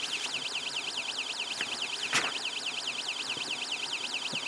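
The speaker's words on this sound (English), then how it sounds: "it's making a sound basically like a siren right now." A rising-and-falling electronic siren from an Elenco Snap Circuits alarm circuit wails steadily, sweeping up and down in rapid repeated cycles, with a few faint clicks and a brief knock underneath.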